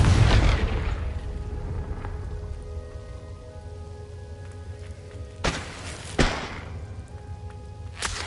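A Confringo blasting spell in the video game Hogwarts Legacy erupts in a loud boom with a rumbling tail, followed by quieter ambience and two more sharp blasts close together near the end, with no talking.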